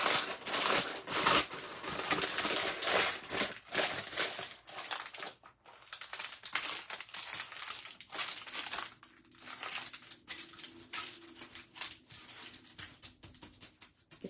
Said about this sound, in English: Get those wrinkles in there.